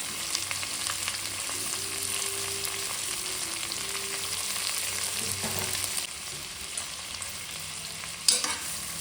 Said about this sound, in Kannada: ಈರುಳ್ಳಿ ರೋಸ್ಟ್ ಆಗಬೇಕು.